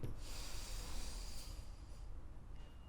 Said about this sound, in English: Slowly take a long breathing in.